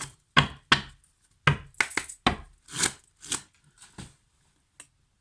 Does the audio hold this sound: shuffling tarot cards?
yes